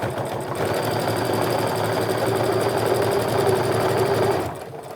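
A sewing machine runs steadily for about four seconds, stitching a tote bag seam up to a pin, close and loud with an even mechanical whir, then stops.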